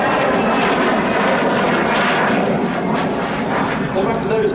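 A USAF U-2 Dragon Lady at the RIAT airshow, RAF Fairford, roars steadily as a loud, continuous jet rumble throughout, with a voice talking over it.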